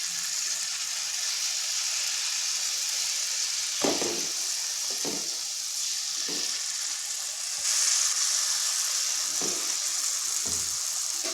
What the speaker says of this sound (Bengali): বেশ কয়েকটা দেওয়ার পর মিডিয়াম আঁচে জিলিপিগুলো ভেজে নেব